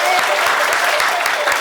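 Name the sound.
audience applause and cheering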